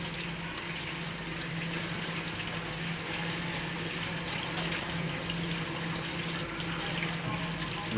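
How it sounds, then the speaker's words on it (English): Blue phosphor suspension poured into a colour television tube faceplate at a factory: a steady, faint liquid wash runs continuously over a low machine hum, with no voices. "The blue phosphor suspension is poured into the faceplate."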